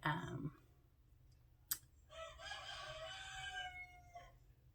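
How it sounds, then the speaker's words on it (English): A rooster crows faintly in the distance in an early-morning garden. The call comes as one drawn-out crow with a falling tail, after a short burst of nearby noise and a sharp click. "it's Rudy, the rooster, again"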